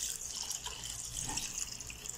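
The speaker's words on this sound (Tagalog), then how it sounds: "lagdagan pa natin ng tubig" Water runs steadily into a cooking pot of pinakbet vegetable stew with alugbati, a faint, even splashing and trickling that continues for about two seconds without talk.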